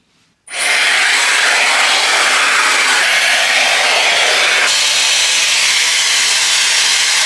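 A hair dryer switches on abruptly and blows loud and steady while drying hair at home, a close continuous rushing whoosh that shifts slightly in tone partway through.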